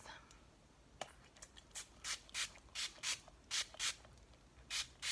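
Wet n Wild setting spray is spritzed onto a face in a series of about ten short, close hissing pumps, coming in quick bursts and pairs against a quiet room.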